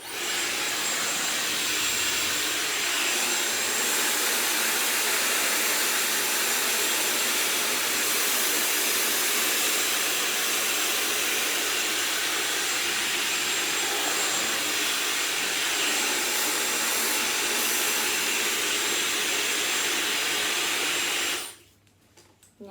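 Dyson Supersonic hair dryer with the narrow styling concentrator nozzle fitted, blowing a steady, loud, close airflow roar for about 21 seconds before cutting off abruptly.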